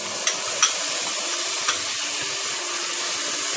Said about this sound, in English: Stir them well and cook them till our tomatoes become mushy and soft and leave their skin.